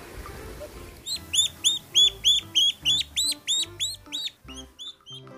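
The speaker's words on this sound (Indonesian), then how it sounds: "Ini anak bebek." A toy yellow duckling found in a sand truck gives a run of about a dozen bright, evenly spaced quacks, loud and close, with no talking over them.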